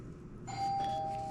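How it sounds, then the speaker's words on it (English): A doorbell chimes once in a home kitchen, a clear sustained electronic tone that starts abruptly and rings on steadily, heard fairly close. "Whoop, doorbell, hold on."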